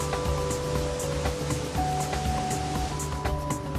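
River water on the Bernesga rushes out after a weir is demolished, forming the first rapids: a steady broadband roar, partly masked by sustained background music tones.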